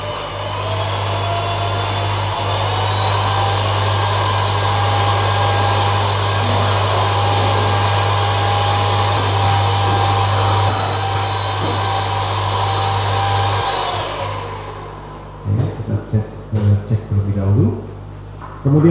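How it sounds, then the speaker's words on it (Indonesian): Electric mixer beating lapis mandarin cake batter until stiff and thick, a loud steady motor whir that holds evenly and then cuts off, followed by brief clattering and handling sounds. "kemudian kita kocok dia sampai kaku dan kental."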